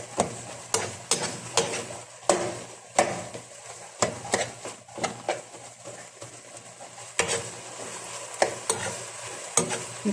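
Homemade shawarma meat frying in a pan while being stirred, with regular knocks and scrapes of the utensil against the pan over a low, steady sizzle.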